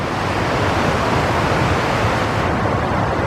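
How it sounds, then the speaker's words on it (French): A small waterfall on a high Pyrenees mountain hike near alpine lakes rushes in a steady, loud broadband hiss with no pauses or voices. "une petite cascade là-bas"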